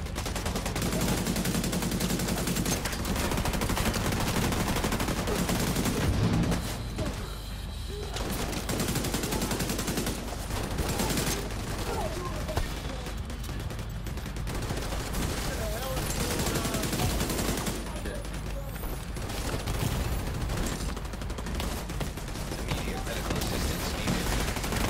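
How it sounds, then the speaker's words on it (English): Rapid, dense gunfire and shotgun blasts during a firefight in the shooter video game The Division 2, loud and continuous throughout, with players talking over the combat. "It's a shotgun, man. It takes quite a long to reload"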